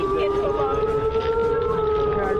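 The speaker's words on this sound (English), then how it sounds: "But what's the siren supposed to mean? It's so long." A long air raid siren wails in a steady, sustained tone with slight pitch wavering, loud and continuous throughout.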